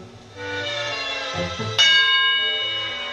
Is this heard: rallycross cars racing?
no